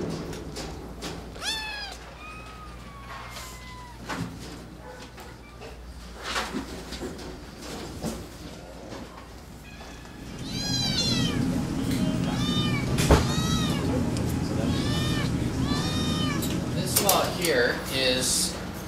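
Several cats meowing at an animal shelter, repeated close and mid-distance mews scattered throughout, growing busier in the second half over room noise and faint background voices.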